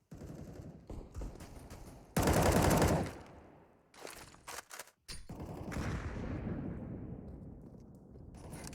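Rapid automatic gunfire and bursts of shots in a CS:GO match on the Overpass map, loud and close with sharp breaks between volleys and one dense blast of fire in the middle.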